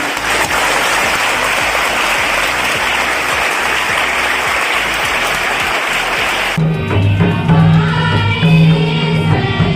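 Loud, dense applause from a crowd of children welcoming guests at a school ceremony, sustained for several seconds before cutting to music.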